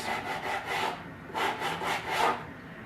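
A rasp-like filing tool scraping down seams on a whitetail deer head form, a rhythmic series of close, gritty back-and-forth strokes.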